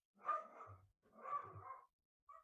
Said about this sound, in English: Apart from the dog, who's obviously wanting to join in.